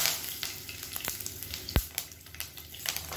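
Curry leaves sizzle and crackle in hot oil, a steady frying hiss with sharp pops and spatters close by.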